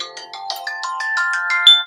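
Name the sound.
phone alarm going off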